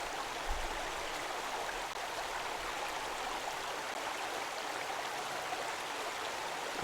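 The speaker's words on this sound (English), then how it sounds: "it sounds like we're in this picture with all of these different water sounds" Steady flowing water, like a stream or small waterfall, a continuous broadband rush at an even moderate level with no talk over it.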